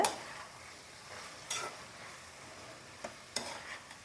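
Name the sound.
stirring green capsicum and curry leaves in a frying pan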